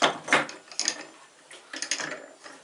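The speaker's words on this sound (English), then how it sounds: "This wrench does fit the saw blade, just so you know." A metal wrench clicks and scrapes as it is fitted onto a saw blade, with a few light rattling, ratchet-like mechanical clicks in short bursts, close up with no talking.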